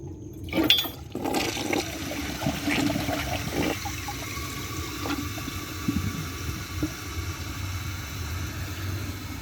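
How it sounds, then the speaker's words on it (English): A 1994 Mansfield Alto toilet flushes, a loud rushing surge of water at the start settling into a steady swirling drain and refill that continues for several seconds, with no voices. "So let's give it a flush."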